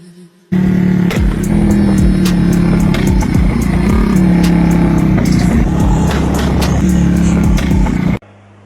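A stock-engine 70cc motorcycle with improved air intake revs hard close by, the exhaust crackling with repeated pops and bangs before the engine cuts off abruptly.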